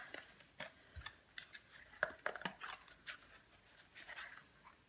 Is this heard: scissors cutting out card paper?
yes